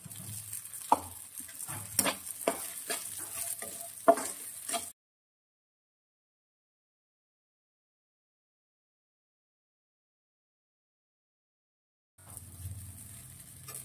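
Sabudana khichdi is stirred and fried in a pan, with a few seconds of clattering spoon scrapes and soft sizzling. A long silent gap follows, then quieter frying noise returns.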